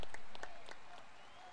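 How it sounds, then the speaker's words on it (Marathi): A brief burst of clapping from a crowd at a local cricket final, fading quickly from fairly close, scattered hands. "जोरदार टाळ्या झाला पाहिजेत."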